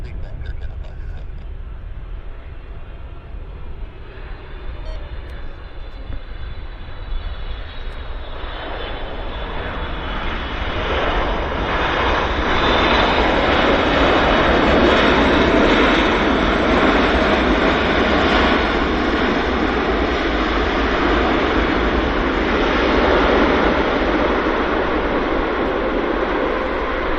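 A jet airliner landing at Vancouver Airport, a roaring engine noise that swells from a distant rumble into a loud, sustained broadband roar, with radio talk over it.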